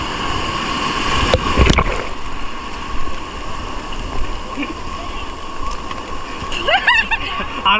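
Seawater splashing as a bather dips into the surf at Puri beach, a steady wash of waves with a few sharper splashes, heard close and fairly loud.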